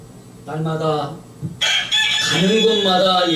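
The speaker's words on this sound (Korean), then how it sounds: "가는 곳마다 들리는 이 닭울음 소리" A rooster crows twice as a sound effect during a graduation worship sermon: a shorter call first, then a louder, drawn-out crow, both close and clear.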